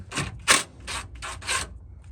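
A 13 mm socket on a ratchet backs out transmission pan bolts on a 1995-2011 Ford Ranger or Explorer with a 4R44E/5R44E automatic, giving about five short, close, scraping ratchet clicks in quick succession with no talking.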